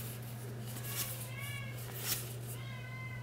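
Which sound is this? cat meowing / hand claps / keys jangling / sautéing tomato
cat meowing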